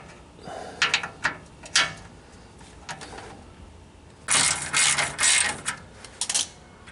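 A ratchet with a 10mm socket loosening a cover bolt on a 2018-2020 Honda Odyssey, heard as close bursts of rapid clicking, first short and scattered, then a longer denser run near the end.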